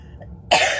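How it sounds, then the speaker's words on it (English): A single sharp cough from someone fighting a cold bursts out abruptly after a brief quiet moment, close and loud. "I'm still fighting a little bit of a cough and a cold"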